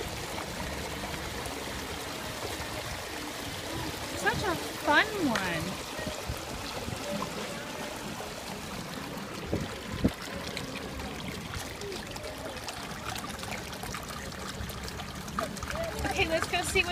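Water runs steadily from a dragon sculpture fountain at an outdoor art display in Grand Junction, a constant splashing trickle close by while people chat over it.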